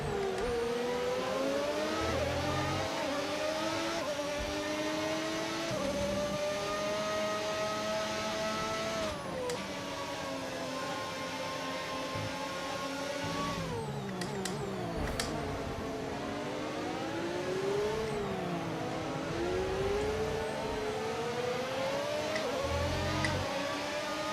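A racing game car engine under heavy throttle drones loud and steady, its pitch rising and falling as revs climb and drop, with brief low thumps and shifts scattered through the stretch.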